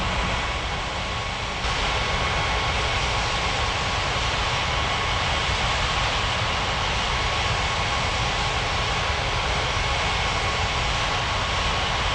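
Jet airliners taxiing at a busy airport, a steady loud turbine roar and whine held close throughout, with no voices.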